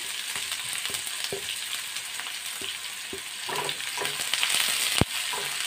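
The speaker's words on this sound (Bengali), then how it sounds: "তারপর আমি একে একে সব কুচিয়ে রাখা পেঁয়াজ তেলের মধ্যে দিয়ে দিলাম।" Chopped onions and green chillies with whole cumin fry in oil for dal tadka, a continuous close sizzle with occasional clinks of a spoon stirring.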